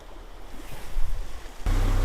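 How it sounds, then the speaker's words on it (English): Canal lock bywash on the Llangollen Canal at the Badley locks, with water pouring steadily down the overflow channel; a constant rushing wash that swells and grows louder and deeper near the end, with no voices. "there is always water flowing down those bywashes"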